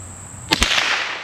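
A single sharp crack of an SK high velocity .22LR rifle round fired at a 50-yard target, a brief loud report followed by a short fading tail.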